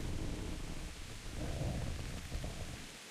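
Steady rain pours over a medieval castle's battlements in Kingdom Come: Deliverance, a dense continuous hiss with low rumbling beneath it, holding at an even level throughout with no talking.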